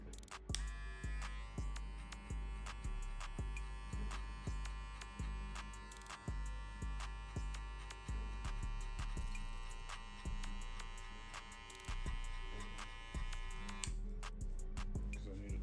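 Electric hair clippers cutting a textured crop top mid drop fade, giving a steady close buzzing hum with a repeating rise and fall as the blade passes through the hair, and no talking over it.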